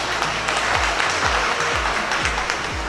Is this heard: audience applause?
yes